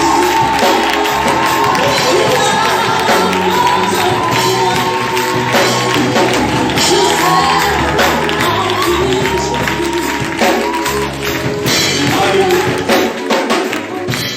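A loud crowd at a religious gathering roars and cheers continuously in acclamation, with clapping and shouting blending into a dense wall of noise.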